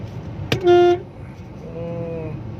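Heavy road traffic with a steady low engine rumble, broken by a single loud car horn toot near the start and a fainter horn afterward.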